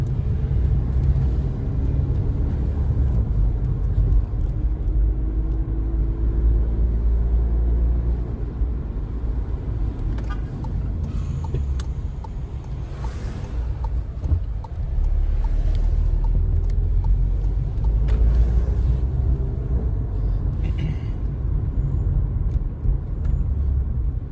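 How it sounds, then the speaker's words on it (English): An MK7 Volkswagen Sportwagen with an aftermarket intake and intercooler drives and accelerates, its engine a steady, loud rumble with road noise from inside the car throughout. "start driving and getting on the gas to push air through the intercooler to cool it off"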